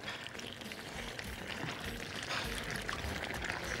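Sauce ladled over a tray of lamb shank and potatoes makes a soft, continuous liquid pouring and splashing sound, quiet and close, with no talk.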